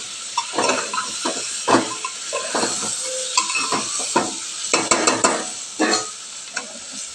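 Fried potatoes tumble into a sizzling chicken curry and get stirred vigorously, with clattering, scraping spoon strokes in irregular bursts over a hissing fry, close and fairly loud.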